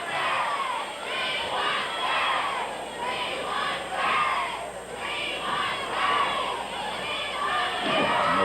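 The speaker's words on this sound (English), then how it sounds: "Crowd is kind of split, so you hear a yell of "we want,"" A wrestling crowd at a live match yells and chants in loud, continuous waves, rising and falling in rhythmic surges with mixed shouting voices throughout.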